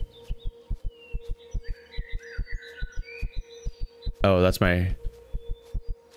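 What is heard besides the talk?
player heartbeat after sprinting in video game Empyrion: Galactic Survival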